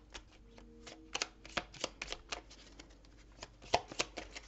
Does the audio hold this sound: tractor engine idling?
no